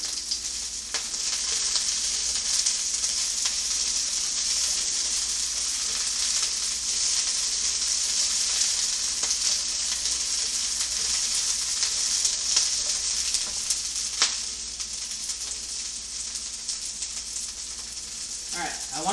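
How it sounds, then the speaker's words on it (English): Caramel glazed cobia fillets sizzle hard in a hot pan, a loud, constant close-up hiss with occasional light stirring rattles throughout. "These sizzle quite a bit,"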